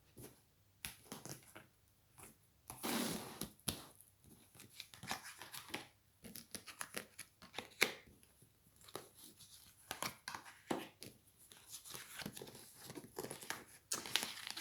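A deck of tarot cards is cut and shuffled close up. Soft, scattered papery riffles and crinkles come in irregular bursts, quiet and alone, with no talking.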